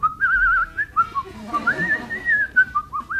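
A person whistles a wavering, continuous melody up close for about three seconds, clear and steady with no talking over it.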